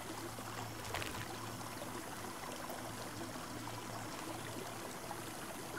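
Dinosaur drinking from a stream in the video game Saurian, a steady soft trickle and babble of flowing water running continuously at moderate level with no talk.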